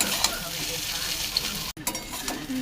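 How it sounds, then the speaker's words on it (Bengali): Egg chow mein is stirred and tossed in a frying pan, a continuous sizzle with scraping and clatter from the utensil, close and fairly loud. "ভালো করে চাউমিনটা মিক্সড করে নিচ্ছি দেখুন বন্ধুরা"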